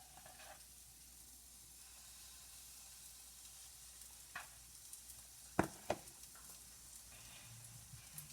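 Hot water cornbread frying in grease in a pan, a faint steady sizzle with a few sharp clicks and taps partway through, no one talking.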